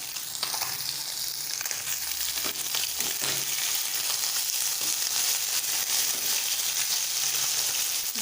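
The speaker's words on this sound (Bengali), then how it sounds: "এখানে মাছ ভেজে নিচ্ছি আমি" Fish frying in oil in a pan, a loud continuous sizzle and crackle with occasional stirring scrapes, no voices.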